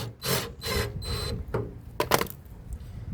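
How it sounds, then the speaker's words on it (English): Front screws, each fitted with a rubber vibration washer, are driven back in to hold the drain pump of a Samsung washing machine that won't spin and shows a 5E/SE error. Several short, close scraping bursts come in uneven succession. "You need to put back the front screws to hold the pump in place."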